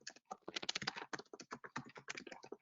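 Rapid typing on a computer keyboard, a fast, close, steady patter of crisp key clicks with no talking.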